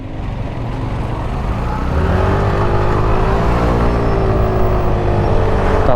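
Suzuki Burgman Street 125 scooter accelerating hard at full throttle from a green light in Davao City traffic, its engine note rising steadily and loudly over steady road noise.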